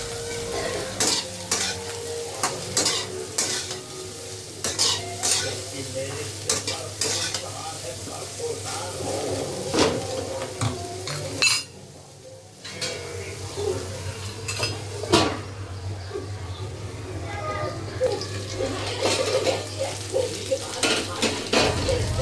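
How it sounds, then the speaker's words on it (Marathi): Cut eggplant pieces sizzle in hot oil in a pan while a utensil repeatedly stirs and scrapes against the metal, with steady frying hiss and clinking throughout, close and clear. "पहिले वांगे कापलेले आहेत आणि ते असे तेलामध्ये परतून घेणार आहे"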